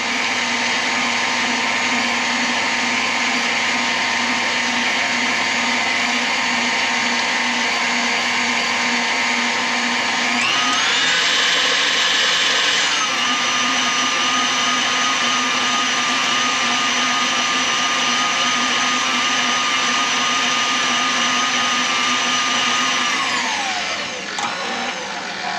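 Steady whirring hand mixer beating banana pudding ice cream ingredients together, a continuous loud motor drone with a brief higher-pitched surge partway through before it winds down near the end; no talking.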